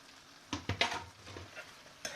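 Spoon stirring creamy mushroom shell pasta in a pan, a few soft scraping and squelching strokes close by, with a quiet gap between them and faint sizzling underneath.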